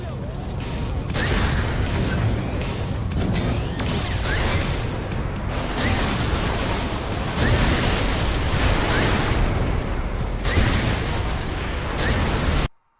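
Tanks being destroyed in the video game Saints Row IV: a dense, continuous barrage of loud booming blasts and crashing impacts, cutting off abruptly at the end.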